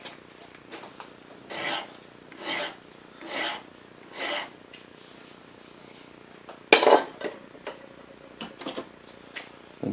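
A hand file rasps against a metal lathe tool bit in short, regular strokes, about five even passes followed by a louder scrape and a few lighter touches, close and clear in a quiet shop.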